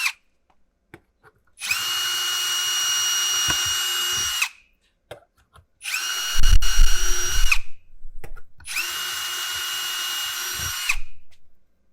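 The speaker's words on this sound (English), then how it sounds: "I'm still going to screw it in." A power drill drives screws to fasten a flange down on a 3D-printer carbon air filtration housing, with three sustained whirring bursts separated by short pauses, the middle one joined by heavier clunks, close and loud.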